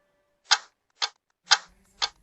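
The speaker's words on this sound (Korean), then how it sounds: "이곳의 인구 시계는 마치 건강한 성인의 심장 소리처럼 경쾌하게 들려요" Four sharp, evenly spaced ticks of a population clock, about half a second apart, each crisp and moderately loud, with a faint low hum entering toward the end.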